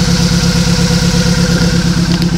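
A Nissan Sentra engine idling with a bad number 1 injector, a steady loud running drone with a regular uneven low pulse throughout, no talk.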